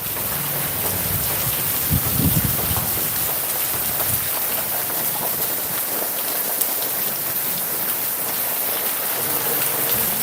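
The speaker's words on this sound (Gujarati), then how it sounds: "તો મિત્રો વરસાદ ચાલુ છે" Steady rain falls throughout during a monsoon spell on farmland, a dense continuous patter with some wind rumble at the microphone and a brief low thump early on; no talking.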